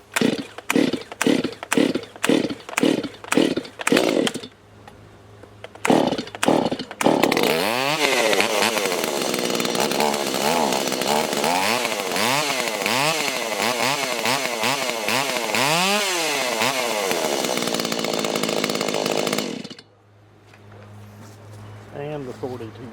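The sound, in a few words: Stihl MS170 chainsaw running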